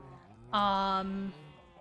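A single drawn-out sheep bleat from the video game Minecraft, a clear, bright, wavering call lasting under a second over faint background sound.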